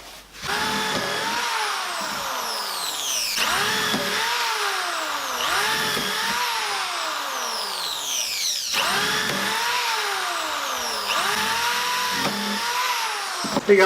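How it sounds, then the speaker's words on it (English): A power drill with a 5mm countersink bit whines repeatedly into wood, rising and falling in pitch as it bites, several drilling bursts close up with the hiss of rain on a tin roof underneath. "with a 5mm drill bit with a countersink head on"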